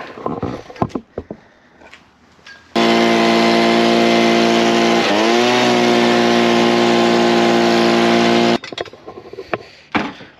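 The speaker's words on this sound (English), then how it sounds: "We're gonna get the leaf blower." A leaf blower blasting air into a Vanagon heater to flush out a mouse: a loud, steady engine roar that starts abruptly, dips briefly in pitch midway, and cuts off after about six seconds, with quieter rustling and handling noises before and after.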